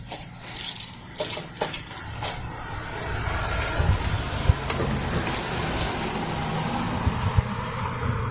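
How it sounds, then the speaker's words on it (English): Coffee grounds are scooped into a small portable espresso machine with scraping clinks and light taps near the start, followed by a steady hiss of background noise and a few sharp ticks. "We'll just scoop that right into there"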